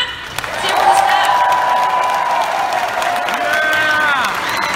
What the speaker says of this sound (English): So huge, huge, huge round of applause, yeah?